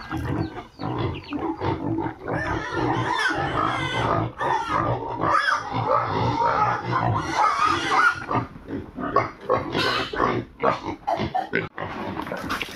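Domestic pigs grunting and snorting while eating madre de agua plants, a dense, continuous run of close, loud grunts and squeals with no pauses.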